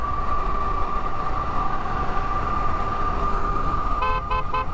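A high-powered electric scooter capable of 80 mph runs at full throttle through a turn, giving a steady whine over rushing wind noise that holds throughout, ending with a few brief pulsed beeps.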